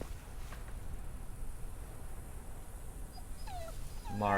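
A dog in the video game The Walking Dead gives a few short whimpering yips near the end, over a low, steady background ambience.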